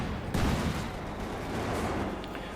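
Maxim machine gun fire in the World War II strategy game Company of Heroes 2, a sudden loud burst of rapid shots followed by a sustained crackling rattle of battlefield gunfire.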